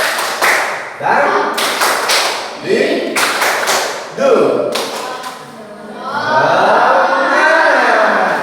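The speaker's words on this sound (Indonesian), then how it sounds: "tepuk semangat." Children in a primary science classroom perform a rhythmic group clapping cheer, sharp bursts of claps in a patterned beat interspersed with chanted voices, close and loud, ending with the class talking together.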